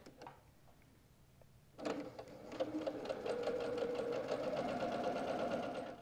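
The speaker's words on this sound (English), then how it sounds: "so I'm ready to keep sewing." After a quiet moment, a sewing machine starts and runs with a fast, steady mechanical stitching whir while it sews log cabin quilt strips for a pillow.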